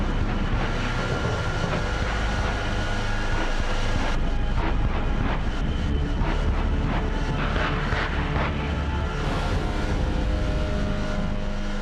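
A jet truck powered by three Pratt & Whitney J48 jet engines roars continuously, a loud, dense, unbroken blast that fills the whole stretch with no pauses or talk.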